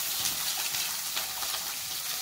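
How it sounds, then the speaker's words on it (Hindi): Potatoes fry in a pan over a cow-dung fire, giving a close, steady sizzle and crackle with light bubbling throughout. No one speaks. "पहले मैं आलू को भून लेती हूँ"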